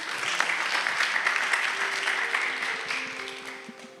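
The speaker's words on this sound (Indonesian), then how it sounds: "Tepuk tangan untuk tim Matthew." A crowd at a church youth service applauding steadily for several seconds, dense and fairly loud, tapering off slightly toward the end.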